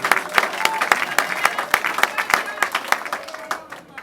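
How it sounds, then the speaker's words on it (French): An audience applauds a minister at a gathering for artists and comedians, brisk crowd clapping with sharp individual claps standing out, mixed with a voice speaking over it. "Applaudissez encore pour notre ministre."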